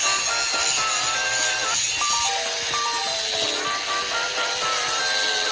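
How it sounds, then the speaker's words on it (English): An angle grinder works down a weld on the metal hub of an RC monster truck, giving a steady, close, high whining grind with shifting pitch that runs continuously and alone. "now I'm busy grinding this weld down"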